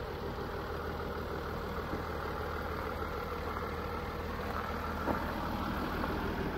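Engine of a Mercedes-Benz Sprinter 319 extra-long van with a Sorsa extended cab, idling with a steady low rumble that holds evenly throughout, close by and moderately loud, with no talk over it.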